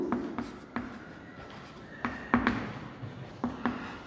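Chalk or marker strokes on a board as a teacher writes a relative density equation in a science class, a series of short taps and scrapes at irregular intervals, fairly close and alone without talk.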